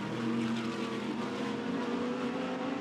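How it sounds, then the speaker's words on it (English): GT race cars, including a white and yellow Audi, a Ferrari and a Mercedes, roar past in a sprint race, a loud, continuous blend of engine noise with no speech. "Bird's white and yellow Audi through on the inside."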